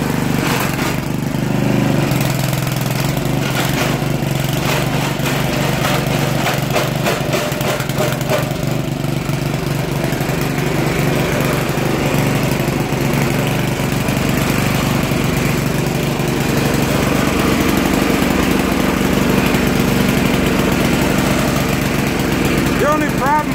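A Poulan Pro 800 Series 26-inch walk-behind tiller engine runs steadily with its tines engaged, a loud chugging small-engine drone with rattling vibration throughout, while someone talks over it.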